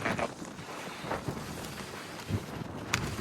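Strong wind gusting across an open waterside spot during a mackerel fishing outing in Denmark, a steady broadband roar with a few sharper buffeting gusts hitting the microphone.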